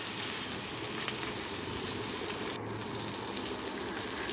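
Ayala fish pieces frying slowly in oil over a low flame, a steady close hiss and fine crackle that carries on evenly without pause.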